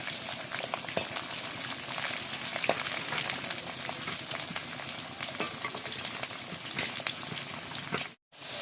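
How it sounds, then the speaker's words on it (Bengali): Fried rice ingredients frying in hot oil in a home kitchen: a loud, continuous hiss of sizzling with scattered crackles and occasional stirring scrapes, cutting out abruptly for a moment near the end before resuming. "সব ভেজে নেব।"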